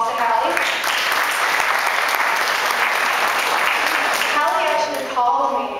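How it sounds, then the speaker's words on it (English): Steady applause fills the hall at the Mayor's Arts Awards as an audience member is recognized, dense clapping throughout, with a voice starting to speak near the end. "So give a round of applause to Hallie."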